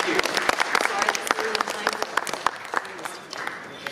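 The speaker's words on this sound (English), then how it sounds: "A big round of applause for you, Jordi." Audience applause at an IFA 2023 conference panel, dense clapping from a crowd that swells and then thins out over a few seconds, heard close and fairly loud.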